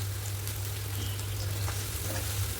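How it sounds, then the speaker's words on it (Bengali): Onion frying in oil with whole cumin seeds, a soft steady sizzle with faint crackles, fairly quiet and even across the short stretch, with a low hum underneath. "যে তেলটা আছে তার মধ্যে দিয়ে দিচ্ছি গোটা জিরে ফোড়ন। তারপর দিয়ে দিলাম পেঁয়াজ।"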